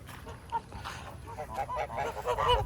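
Geese honk repeatedly in quick, overlapping calls, with goslings among a small flock of three adults; the honks are close and fairly loud, forming a busy chorus with no talking.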